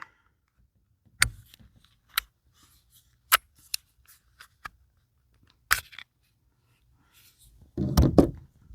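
Glock 17 Gen 5 airsoft pistol being taken apart, giving a scattered series of sharp plastic-and-metal clicks and snaps, close and fairly quiet, ending in a denser rustle of handling.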